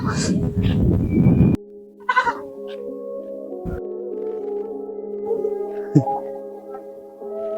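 Goat bleating, a clear wavering cry that rises out of a background of voices and then rings out on its own with a sustained, tremulous tone, followed by a few further short calls and some people talking nearby.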